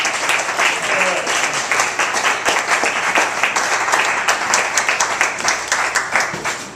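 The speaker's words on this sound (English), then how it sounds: "Let's give him a round of applause" An audience at a talk at a lake center breaks into brisk applause, a dense, steady clapping with a few individual claps standing out, continuing throughout.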